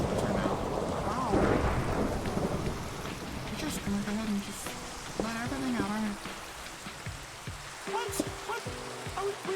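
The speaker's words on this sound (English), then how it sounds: "we were having a thunderstorm" Minecraft thunderstorm with rain, a steady patter of rainfall with a low rumbling of thunder early on, heard under a person talking casually throughout.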